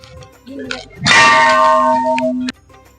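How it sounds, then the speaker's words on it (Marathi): A single loud clang of a large brass temple bell at Bhuleshwar Temple rings out, its bright tone sustaining for over a second before being damped, with faint voices around. "मंदिराच्या समोर फार मोठी पितळ्याची घंटा सुद्धा आहे"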